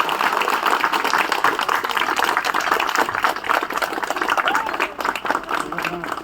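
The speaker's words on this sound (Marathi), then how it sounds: "सर्वांनी टाळ्या वाजवा" At a flag hoisting ceremony, a crowd claps in a dense, sustained burst of applause that fills the whole stretch, loud and close.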